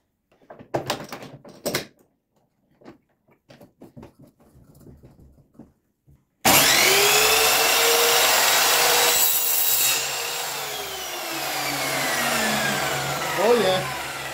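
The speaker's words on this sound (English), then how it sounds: "I would like to see how it can cut in this plastic PVC." Parkside PKS 1500 miter saw cutting through PVC plastic: someone talks briefly amid faint workshop knocks, then the saw motor whines up loudly, cuts steadily through the plastic, and spins down at the end.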